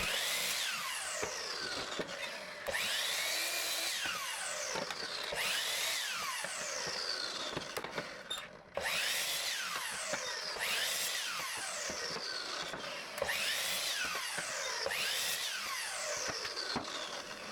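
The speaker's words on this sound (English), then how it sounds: "On the miter saw, I cut my legs to 16 inches, trimming both sides, using a stop block." A miter saw cuts pallet wood table legs to length against a stop block, its motor whining up and winding down in about six repeated cuts, loud and close with no talking.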